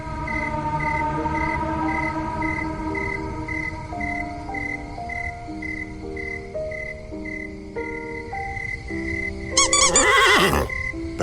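A horse whinnies in a loud, shrill burst near the end, cutting through a bed of tonal background music and sustained notes that fill the stretch before it.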